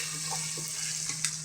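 Garlic paste added to browned onions in a hot pan for a home-style chicken curry, a steady close sizzle with a few soft stirring scrapes and one brief sharper spatter near the end.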